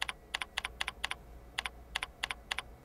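Keys on a computer keyboard are pressed in quick, crisp clicks, some grouped in close pairs, with short gaps between the bursts as credentials are entered. The typing is close up in an otherwise quiet room.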